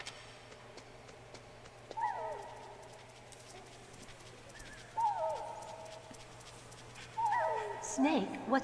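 Dog enemies in the PlayStation game Metal Gear Solid: three whining, yelping cries at intervals over a steady game background hum, moderately loud and close.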